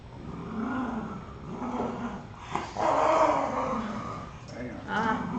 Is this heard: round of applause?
no